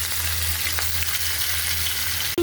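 Fish frying lightly in hot oil in a kadai, a steady close sizzle with a low hum beneath, continuous throughout.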